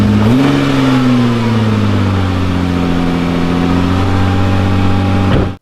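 A rebuilt 2018 Nissan GT-R engine runs after a restart, catching with a brief rise in pitch and then holding a smooth, steady idle hum, close and loud, before cutting off abruptly.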